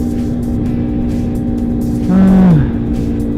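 Riding a Kawasaki ZZR 400 motorcycle back from the beach on a sunny day, a continuous close engine drone swells briefly midway with a falling pitch, then settles back to a steady hum.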